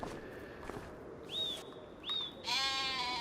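Sheep bleating in the farming video game Farming Simulator 25, two short rising calls followed by a longer, louder bleat over a soft ambient background.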